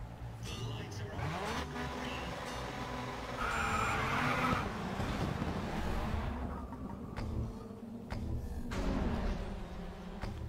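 Touring cars in GRID Autosport charge toward the first corner of a championship round in Abu Dhabi, engines roaring and revving together with brief tire squeal, a dense continuous racing din under commentary.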